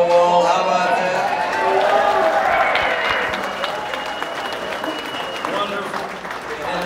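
Concert crowd at the Birchmere applauds and cheers, a loud sustained roar of clapping that gradually settles, with voices mixed in.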